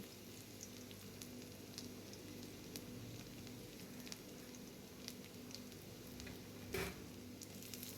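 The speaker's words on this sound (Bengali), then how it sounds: "একটু রসুন কুচি, পেঁয়াজ কুচি দিয়ে এটাকে ভেজে নেবো আগে" Chopped garlic and onion sizzle gently in a pan, a faint, steady crackle with a brief clatter near the end.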